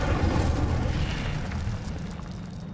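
The Incendio fire spell is cast in Hogwarts Legacy with a loud, roaring fiery burst that rumbles like an explosion and slowly fades over a few seconds. No speech is heard.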